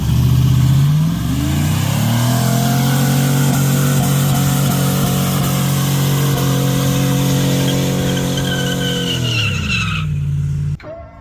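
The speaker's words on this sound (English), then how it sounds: "You know, Shorty likes to do burnouts." A Chevy 6.0 LS engine roars through a sustained high rev during a car burnout, with a loud, steady engine drone and tire noise for about ten seconds before it drops off abruptly.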